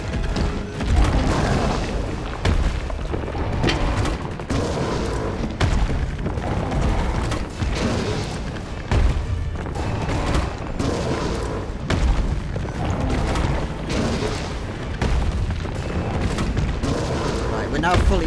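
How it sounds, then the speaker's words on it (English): Dense, continuous booms of mine grenades and explosives going off in a video game fight, loud and rapid overlapping blasts throughout with no pause. "the mine grenades and the explosives will stun lock him for some free damage"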